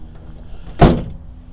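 One section of a 2019 GMC Sierra Denali's MultiPro tailgate is pulled up, giving a single short, solid clunk close by against a faint background hum.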